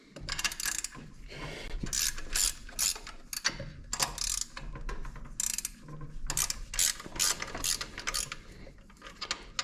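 Ratchet working 17 mm bolts loose on a Golf 3 gearbox: quick bursts of clicking pawl strokes, close and crisp, coming in uneven runs across the clip with no talk.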